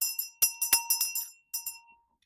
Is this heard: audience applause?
no